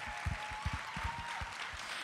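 Audience applause for the staff at the 2015 Miss Teen USA pageant, a dense steady clatter of many hands clapping that holds at moderate loudness throughout.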